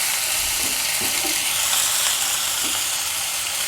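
Chicken sizzles steadily in a hot pan while being stirred, with a constant bright frying hiss and a few soft scrapes and knocks of the utensil underneath.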